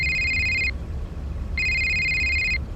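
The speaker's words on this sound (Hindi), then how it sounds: "तभी अचानक जिंदल का फोन बजने लगा।" A telephone rings in an audio drama, two clear electronic bursts, each about a second long with a short pause between, loud and close over a low background rumble.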